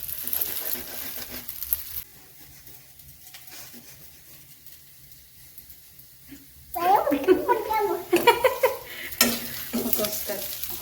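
Pitha fried in a home kitchen: steady sizzling with stirring clatter, quieter in the middle stretch and swelling louder near the end, while people talk over it.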